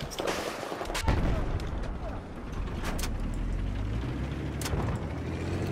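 Gunfire in Battlefield 4 multiplayer on PC, sharp shots cracking at intervals over a steady rumble of battle noise, with a vehicle-like drone and some talking mixed in.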